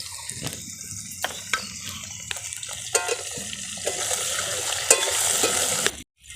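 Potato pieces and green chillies sizzling in hot oil in a wok, a steady crackling hiss with intermittent sharper spits and stirring clatters, ending abruptly.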